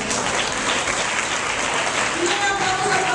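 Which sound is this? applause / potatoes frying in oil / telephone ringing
applause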